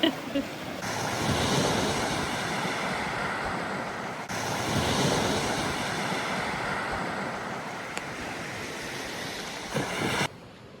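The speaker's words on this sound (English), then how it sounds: "So we are out on Agate Beach on Lake Superior, and what a gorgeous night we're having tonight." Waves on Agate Beach along Lake Superior wash in with a broad, continuous roar, close and loud, mixed with gusty wind buffeting the microphone.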